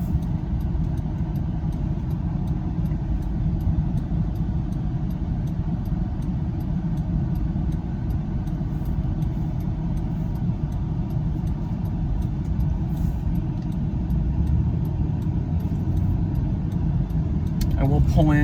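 A 2002 Buick Park Avenue with about 79,000 miles cruising down the road, heard from the rear seat as a steady low engine and road drone with faint ticking.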